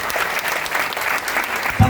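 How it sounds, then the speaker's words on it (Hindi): Loud, dense applause from an audience cheering silver directors at a business gathering, steady clapping filling the whole stretch without pause. "सिल्वर डायरेक्टर्स के लिए जोरदार ताली बजाओ जरा।"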